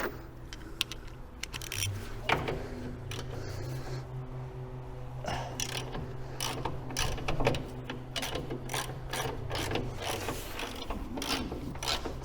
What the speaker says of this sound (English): It's a nice blue point socket set actually.